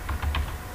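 Short burst of typing on a computer keyboard, a few quick keystrokes close up with no talking.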